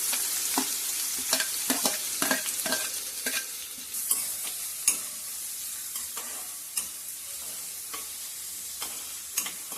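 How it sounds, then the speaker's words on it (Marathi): Chopped onion with green chillies fries in a pan for Konkan-style radish bhaji, a soft sizzle under repeated close spoon scrapes and taps against the pan as it is stirred, with no talking. "कांदो आपण भाजून घ्यायचो लालसर होईपर्यंत."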